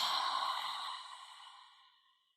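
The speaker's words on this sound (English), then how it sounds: "as you make that sound, breathing out and fogging up your glasses" A long audible exhale through an open mouth during breath practice, a soft breathy hiss that starts fairly strong and fades gradually to nothing over about two seconds, close and alone.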